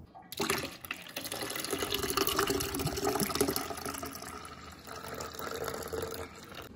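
Water pours steadily from a can into evaporated milk, a continuous splashing, gurgling fill that runs for several seconds close by with slight changes in flow.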